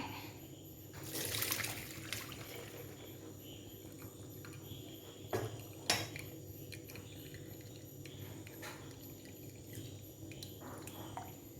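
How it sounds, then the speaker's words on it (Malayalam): Excess water drained from cooked lentils trickles and drips faintly into a vessel, with a few soft knocks and splashes against a quiet background hum. "ആ വെള്ളം നമുക്ക് ഇങ്ങോട്ട് ഊറ്റിയെടുക്കാം"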